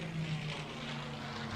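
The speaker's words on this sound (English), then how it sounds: "Wasn't expecting a plane." A propeller plane flies overhead in the survival video game Green Hell, its steady droning engine hum sustained and fairly close, with no speech over it.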